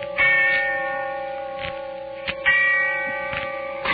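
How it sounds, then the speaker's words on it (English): A church bell tolls with a deep, sustained ringing hum, struck several times and echoing, with no voices. "the sound of the bell tolling away in the darkness of early evening"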